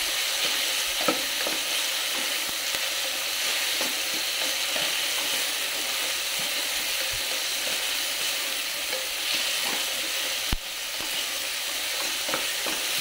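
Chopped tomatoes and spices sauté in a pan for chicken pulao, giving a continuous even sizzle with occasional soft knocks of stirring throughout.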